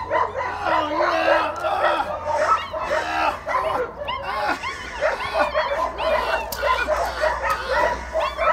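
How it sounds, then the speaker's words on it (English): A litter of AKC-registered puppies yips, whimpers and squeals constantly up close, a busy overlapping chorus of high little cries with occasional howl-like notes and voices mixed in. "Good little puppies, AKC registered pups."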